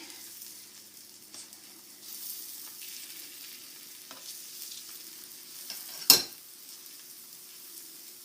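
Dosa batter sizzles softly on a hot pan with a steady low frying hiss, while a spatula flattens it, ending in one sharp metallic scrape or clack near the end.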